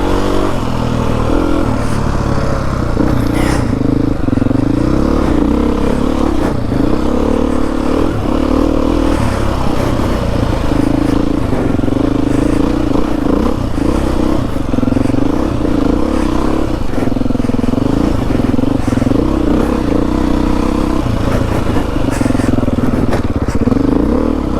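A Beta dirt bike ridden on trails at a demo day motopark, its engine droning loud and continuous throughout with rising and falling revs, plus occasional clatter and scrapes from the terrain.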